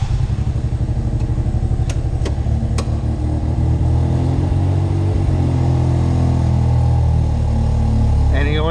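A heavy truck's diesel engine runs steadily as it backs up, a deep, loud, close rumble with a few sharp clanks near the start and a brief higher whine at the end.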